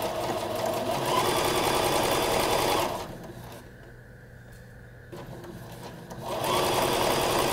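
A sewing machine stitches a red-threaded Christmas stocking in loud, fast bursts, its motor whirring steadily, falling away to quiet for about three seconds in the middle, then starting up again.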